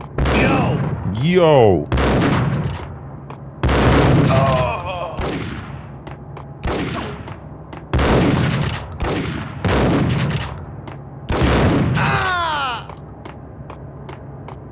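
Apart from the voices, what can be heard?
gunfire in the video game Max Payne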